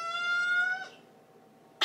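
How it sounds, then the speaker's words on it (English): A house cat gives one long, clear, close meow that fades out, followed by a brief sharp noise at the end. "Why are you meowing like that?"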